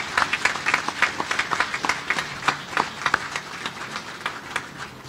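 A crowd at a Navy ship christening ceremony applauds outdoors, with many overlapping hand claps forming a busy, steady patter of moderate loudness lasting several seconds.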